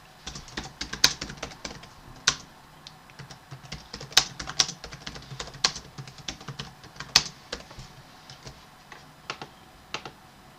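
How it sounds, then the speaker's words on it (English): Typing on a computer keyboard to enter values for a key exchange calculation, with irregular bursts of crisp, close key clicks and occasional louder presses over about ten seconds, no voices. "So I'll just type here"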